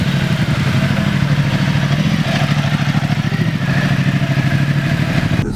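A Ducati Multistrada 1200 Enduro motorcycle rolls slowly along an urban route in Jakarta, its engine a close, steady, loud throbbing rumble with mechanical clatter and no voices over it.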